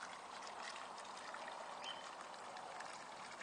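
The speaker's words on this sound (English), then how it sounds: "Water's coming out." Water pouring and trickling out of the CPVC pipes of a homemade drip-edge solar water heater, a steady, soft splashing stream with no pauses.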